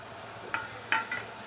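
Boiled double beans added to brinjal gravy frying in a pan, with two or three quick clinks and stirring scrapes over a low steady sizzle.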